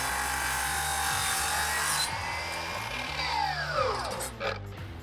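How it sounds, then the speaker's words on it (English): A Milwaukee 12-inch miter saw cuts cabinet filler wood, giving a loud, steady whine and rasp across the whole cut that winds down in pitch near the end as the blade slows. "I'm gonna cut it here with the Milwaukee 12-inch miter saw."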